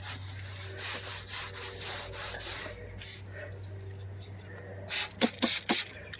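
Steady brushing and rubbing against dirty leather car seats with cleaner, a soft continuous scrub over a low hum, ending in a few sharper, louder strokes.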